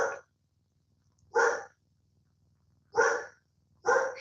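Allie, a dog, lets out four loud, sharp barks spaced about a second or more apart, close by and with nothing else heard between them.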